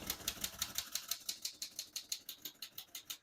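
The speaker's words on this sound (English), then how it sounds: "We're going to keep that on single for now and finish typing." Keys clack on a 1936 Royal O Model portable typewriter in a steady run of about twenty crisp, even strikes, close and with no talking.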